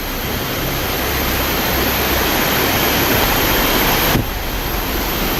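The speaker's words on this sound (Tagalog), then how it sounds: "Sobrang lakas ng agos ng tubig." A strong river current rushes past in a loud, continuous broadband roar, close and steady throughout, with no voices heard.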